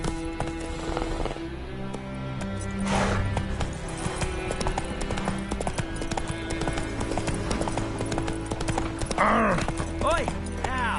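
Video game hoofbeats of the horse Roach galloping in a fast, steady clip-clop rhythm that runs throughout, with a voice calling out and shouting over it.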